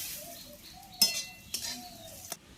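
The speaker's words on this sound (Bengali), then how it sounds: "এখন আমি একটু নেড়ে দেবো।" A potato curry gets stirred in a metal pan in a village kitchen, with three sharp clinks and scrapes of the spoon against the pan, spaced apart, over quiet background with faint bird calls.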